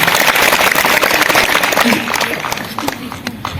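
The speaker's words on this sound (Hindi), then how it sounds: "तो देखिए एक बार दीदी के लिए और जोर से ताली बजाइए।" An audience at a Holi picnic gathering claps for an honoured woman, brisk crowd clapping that is strong at first and thins out after a couple of seconds, with some voices mixed in.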